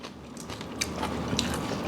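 Close, crisp crunches come from biting into spicy Thai papaya salad with water spinach, a few brief crackling bites over a steady, noisy background.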